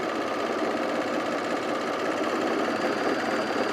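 An overlocker sewing machine serges the edge of a zip hoodie, a fast, steady mechanical whirr running unbroken and fairly loud from start to finish, with no one talking.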